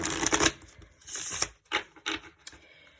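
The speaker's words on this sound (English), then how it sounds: "let me shuffle it real fast" A deck of oracle cards is shuffled quickly by hand, giving several short, close riffling and rubbing bursts separated by brief pauses.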